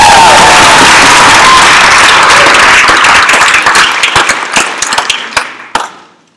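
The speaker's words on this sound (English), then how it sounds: "receive a rapturous round of applause" Loud applause fills a debating chamber, a dense wash of clapping that thins into scattered individual claps and fades out over several seconds.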